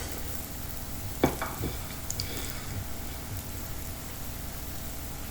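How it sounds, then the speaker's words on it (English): Vegetables sauté on a tava with a steady, moderate sizzle, and a utensil scrapes and taps against the griddle a few times near the start. "Just keep sauteing it and then you are done."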